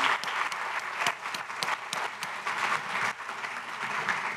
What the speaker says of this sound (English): A round of applause for Donna Karan.